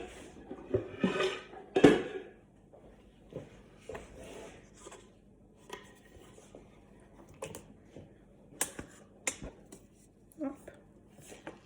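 Metal pan clatter, scrapes and taps while a baked chocolate cake is unmolded from its pan in a home kitchen, irregular knocks with a couple of louder bangs, close, with occasional talking.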